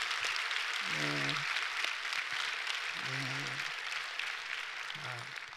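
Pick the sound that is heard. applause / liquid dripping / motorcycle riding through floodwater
applause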